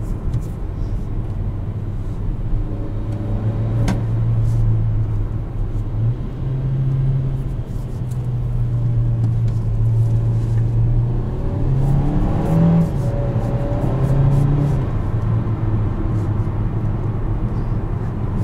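A 2021 Kia Seltos SX Turbo pulls under acceleration from inside the cabin, its steady engine drone rising in pitch and dropping back several times as the dual-clutch gearbox makes rapid upshifts.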